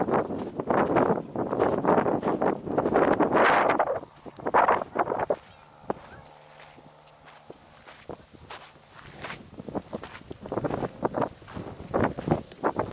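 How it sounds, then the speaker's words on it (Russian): Strong wind, about 13 m/s, gusting across a beach on Ahlestysheva Bay in Vladivostok, buffeting the microphone in loud rushes with footsteps crunching along the shore between gusts. "Сегодня просто ветер сильный."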